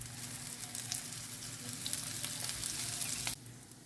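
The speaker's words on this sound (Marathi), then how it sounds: "सो रवान ताका डीप करून फ्राय करतलें हांव" Semolina-coated kingfish cutlets deep frying in oil, a dense close sizzle with bubbling pops and crackles that holds steady, then drops noticeably quieter near the end, with no talking.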